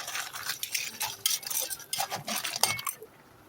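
Cumin-seasoned fish mixture with coriander being stirred in a pan, giving a steady run of close scraping and clinking utensil sounds against the cookware, with no talking.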